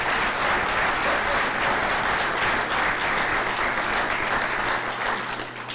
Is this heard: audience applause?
yes